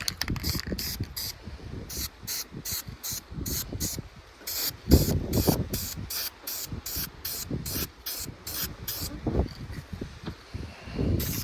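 Short repeated bursts of spray paint hiss as a coat goes onto a part for a 1969 Mercury Cougar XR7 Convertible, in close rhythmic pulses with brief gaps, with faint rustling between sprays.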